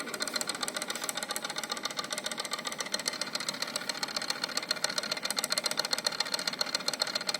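Built-in stirrer of a pH meter setup running in a lab, a faint, fast, even motorized whirring with a rapid ticking pulse, steady throughout with no talking.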